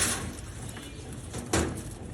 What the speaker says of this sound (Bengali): খুবই সুন্দর দুটো কানটুওয়ালা কবুতর